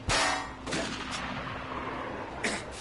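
Sniper rifle shots in the video game Metro Exodus: a loud, close crack with a long echoing tail, followed by two further fainter reports.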